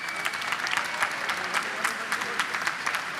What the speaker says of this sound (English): Big round of applause for both fighters.